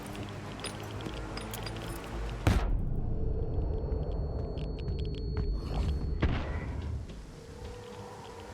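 Grenade blasts in STALKER 2 land as a sharp loud boom followed by a long rumbling roar, then a second heavy impact, with no one talking.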